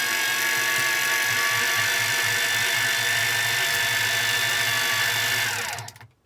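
A Miya Epoch X-8GT electric fishing reel winding in line with a loud, steady motorized whine and faint rhythmic ticking, running continuously before cutting off abruptly at the end.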